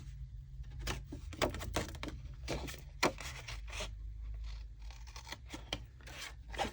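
Scissors cut through fabric for a stitched foliage project, a series of crisp snips and rasping slides that come in uneven clusters over a low steady hum, close and clear with nobody talking.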